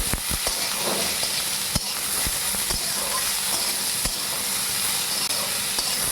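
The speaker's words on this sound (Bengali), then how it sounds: "এটা কিছুক্ষণ নাড়াচাড়া করবো" Small fish and vegetables fry in a pan while being stirred, a steady close sizzle broken by sharp clacks and scrapes of the spatula at irregular intervals.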